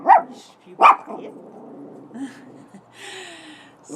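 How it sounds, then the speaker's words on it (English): A leashed dog barks twice in quick succession, loud and close, as another dog walks past outdoors, followed by quieter rustling and faint background noise. "There's a dog walking by."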